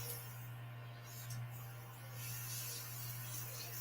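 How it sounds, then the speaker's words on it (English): An airbrush sprays onto a piece of paper or tissue as a test, giving a soft, steady hiss close up and low in level, with no talking. "sometimes I'll spray like a piece of paper or the tissue just to make sure"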